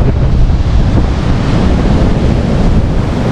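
Strong beach wind roars steadily against the microphone at Botolan, Zambales, Philippines, a loud continuous rumble with a hiss of surf or blowing air and no voices.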